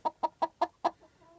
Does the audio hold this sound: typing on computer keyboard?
no